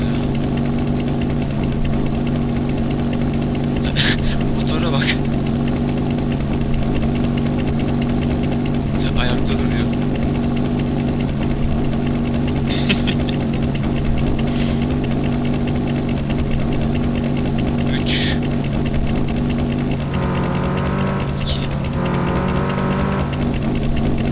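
A steady vehicle engine idles and hums in the video game Simple Sandbox 2, a continuous low drone with faint higher chirps over it and a brief rougher burst near the end.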